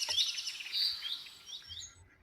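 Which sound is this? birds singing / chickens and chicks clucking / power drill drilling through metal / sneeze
birds singing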